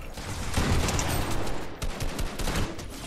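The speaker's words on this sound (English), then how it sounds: "Wow, I shot him in the foot." Rapid gunfire fills a Fortnite box fight, dense bursts of shots crackling close and loud with no break, stuttering briefly before the firing picks up again.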